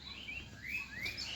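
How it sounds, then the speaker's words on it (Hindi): Several birds chirp and tweet in the early morning on a rooftop, bright rising whistled calls overlapping at moderate distance, with no voices. "ये जो चिड़िये बोल रही हैं, ची ची ची ची कर रही हैं"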